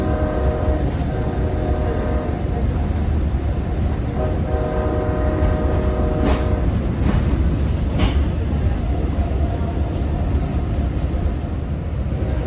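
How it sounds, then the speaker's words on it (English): A Long Island Rail Road passenger train rumbles steadily along the tracks with constant roaring noise, faint clacks and rattles from the cars as it runs at speed. "the train picked up speed and passed the next 3 stations"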